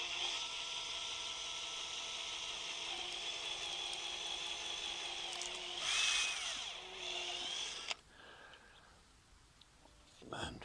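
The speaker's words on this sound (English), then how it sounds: "Then I take a drill and I'm just going to put a hole through the bamboo on each mark." Power drill boring holes through bamboo canes, a whining high motor hum held for about eight seconds with a pitch shift near the end, then cutting off to quiet with faint sounds.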